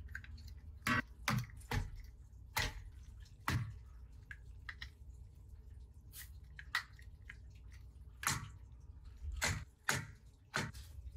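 A spray bottle squirts water in short, sharp spritzes during wet sanding of an oxidized bass boat's gelcoat. The bursts come irregularly, close up and fairly quiet, with soft gaps between them and no talking.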